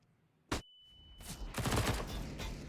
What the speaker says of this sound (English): Cirque taking some shots away with that SMG at a long range